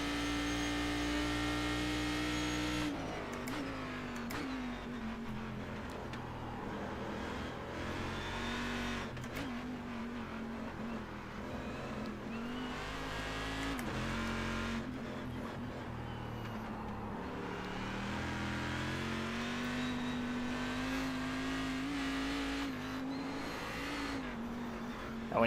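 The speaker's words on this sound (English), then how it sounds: "It's nice and easy, no need to over rev on the downshifts." A Cadillac CTS-V.R race car engine drones steadily in the iRacing game, with pitch shifts through downshifts and acceleration and occasional brief tire noise, continuous and prominent throughout.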